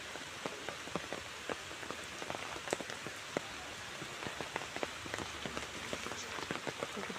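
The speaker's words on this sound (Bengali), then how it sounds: "পুকুরে জল পড়ছে" Monsoon rain falls steadily on a village pond ringed by trees, a dense, even patter of drops with scattered sharper splashes, fairly faint and with no voices.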